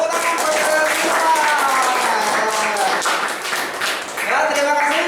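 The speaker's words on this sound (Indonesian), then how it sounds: "tepuk tangan buat kalian semua" Audience applause at an Indonesian gathering, steady clapping throughout with voices and crowd noise mixed in, loud and close, easing briefly before a voice rises near the end.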